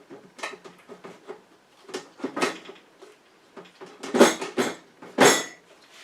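Hard plastic and metal parts clatter and clink as the head is fitted onto a Magical Butter machine holding valerian root in glycerin, a series of close, uneven knocks and scrapes with two sharper clunks near the end.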